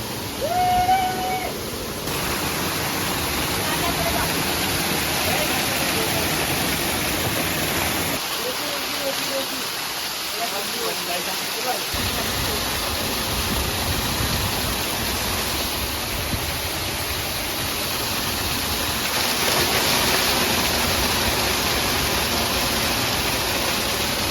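A jungle waterfall near Mahakali Temple at Saravana, heard as a steady broadband rush that carries on throughout, with a quieter stretch partway through and a faint high whine above it.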